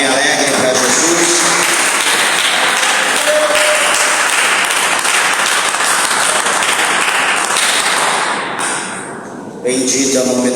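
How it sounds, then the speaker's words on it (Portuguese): A church congregation at a worship service gives Jesus a long, joyful round of applause, a dense, loud wash of clapping that carries on steadily before briefly dipping near the end. "dê uma salva de palmas bem alegre para Jesus"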